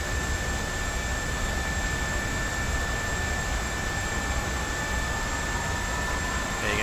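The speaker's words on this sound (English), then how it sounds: "Hear it spooling up." Boeing 737-500 jet engine spooling up in a flight simulator, a steady broadband rushing hiss with a constant high whine tone, even and unbroken, with no talking.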